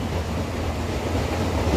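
A meter gauge train runs from Junagadh toward Sasan Gir, heard from inside as a loud, steady low rumble and rattle of wheels on track, continuous and close, with no talk.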